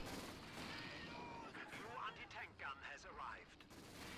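Sniper rifle fire in a multiplayer custom map game, a burst of sharp gunshot cracks against a busy background of battle noise and a voice talking.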